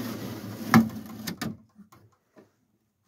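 A bent, riveted metal tool box drawer is worked by hand, giving a couple of sharp metallic knocks and scrapes, then a few faint small clunks as it settles into quiet.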